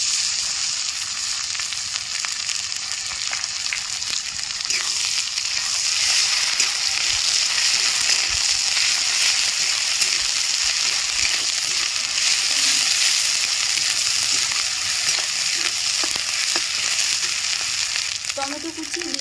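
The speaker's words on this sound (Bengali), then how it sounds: "আদা রসুন বাটা দিয়ে দিচ্ছি।" Ginger-garlic paste frying in a pan for a dhaba-style egg tadka gives a loud, continuous sizzle with stirring scrapes throughout. There is no talking.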